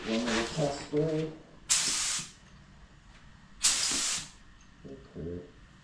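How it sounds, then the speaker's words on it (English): Two sharp bursts of hiss from a spray paint can test spray, each about half a second long, with a voice speaking before and after them. "Give it one little test spray."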